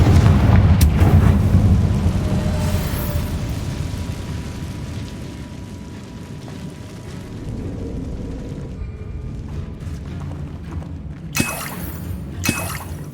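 A Confringo fire spell explodes in Hogwarts Legacy: a loud, deep booming blast at the start rolls into a long rumbling decay, followed by quieter game ambience and a couple of sharp clattering hits near the end.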